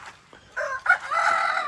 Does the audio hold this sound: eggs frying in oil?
no